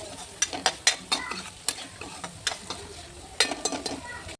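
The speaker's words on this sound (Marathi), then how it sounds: "आणि आता गॅस चालू करून हे सगळं मिश्रण आपण शिजवून घेऊया." Tomato mixture cooks in a pan over a gas flame, with a soft sizzle beneath a run of sharp spatula scrapes and taps as it is stirred, fairly close and quiet.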